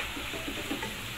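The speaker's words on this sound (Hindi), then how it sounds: "ये हमारी सब्ज़ी अच्छे से फ्राई हो गई है" Vegetables with soy sauce fry in a pan, giving a close, steady hiss and crackle of sizzling with no voices.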